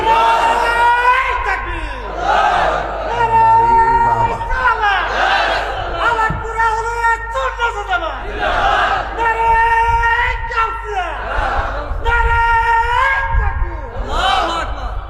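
A large crowd at an Islamic religious gathering roars back in loud unison to the Naraye Takbir slogan, with several long drawn-out chanted calls rising and falling one after another.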